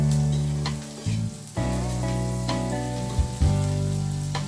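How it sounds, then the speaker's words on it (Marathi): Four crushed garlic cloves go into hot oil for an omelette and sizzle loudly and close up, with stirring scrapes as the crackle surges now and then. "आता त्यामध्ये 4 लसूण पाकळ्या बारीक चेचलेल्या टाकायच्या आहेत।"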